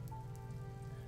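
Rain falls steadily as a sound effect in an audio drama, a soft continuous patter of drops on a surface at low level, with no voices over it.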